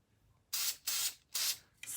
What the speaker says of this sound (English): spray it right there in place.